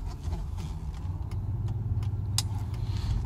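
Mercedes car driving along, a low steady engine and road rumble heard from the cabin, fairly quiet, with a few light clicks and rattles over it.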